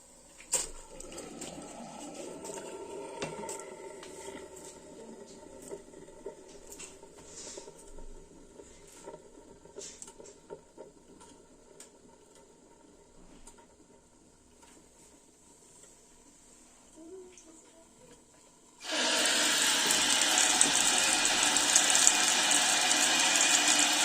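Water drains through a freshly unclogged sink drain: after long stretches of quiet dripping and small clicks, a loud, steady rush of flowing water starts abruptly and keeps going to the end.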